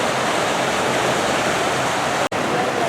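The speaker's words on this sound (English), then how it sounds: "This is a water rapids ride." The Fury of the Nile water rapids ride at the Worlds of Fun amusement park in Kansas City makes a loud, steady roar of rushing, churning water that runs throughout, broken only by a brief cut near the end.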